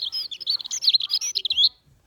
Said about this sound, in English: a little book of garden birds